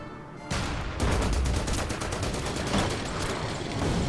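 Gunfire and artillery in Order of Battle during a desert battle near Tunis: a sudden onset of dense, rapid repeated gunshots and booming blasts, continuous and loud with rhythmic bursts throughout.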